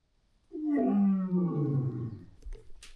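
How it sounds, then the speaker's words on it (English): A lion's deep, drawn-out roar, close and loud, sliding downward in pitch over about two seconds before trailing off into quiet rustling. "there's literally a lion right here"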